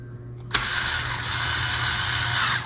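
Cordless drill driving out the three CPU fan screws on a Lenovo G50 laptop, starting with a sharp click and then a steady, close motor whine that continues without a break and stands alone.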